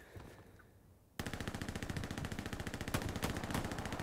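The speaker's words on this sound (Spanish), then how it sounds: "Me disparan." Rapid machine-gun fire in the WWII shooter Hell Let Loose, starting abruptly after a quieter second and continuing as a dense, loud, steady stream of rounds with a few louder nearby shots mixed in.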